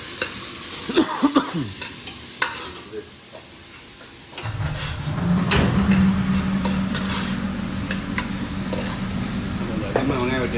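Sliced onions go into a hot pan and begin sautéing for a South Indian kovakkai kara kuzhambu, with a steady sizzle and hiss that rises partway through. Clattering stirring sounds come first, and the frying continues loud and close.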